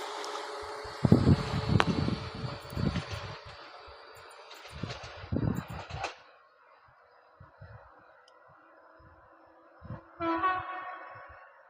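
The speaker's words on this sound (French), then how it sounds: "attention vos oreilles, gare à vous, ça va siffler dans le tunnel" A multiple-unit train sounds its horn inside a tunnel in several loud blasts over a rumbling train; after a quieter stretch, a final harmonic horn call rings out near the end.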